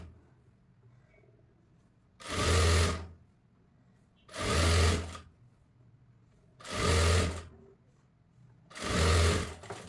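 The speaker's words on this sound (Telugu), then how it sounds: "ఈ ఎడ్జ్ని చిన్నగా ఫోల్డ్ చేసి స్టిచ్ చేసుకుంటున్నాను." A sewing machine stitches a small folded cloth edge for a frilled frock, running in four short, loud bursts about two seconds apart with quiet pauses between, no voices.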